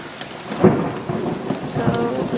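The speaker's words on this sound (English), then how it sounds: "I'm pretty sure you can hear the thunder" Thunder rumbles low and close during a heavy rainstorm, with a loud roll near the start and more rumbling under a steady wash of falling rain.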